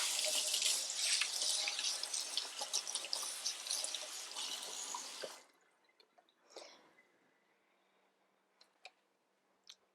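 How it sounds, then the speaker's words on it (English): Water runs steadily from a tap for about five seconds, then shuts off, leaving a few faint drips and small clinks. "I'm going to put this over to the side, wash my hands"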